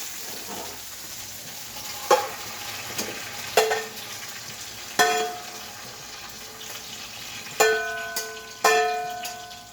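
Food fries in a pan with a steady, moderate sizzle, broken every second or two by sharp metallic clanks from stirring.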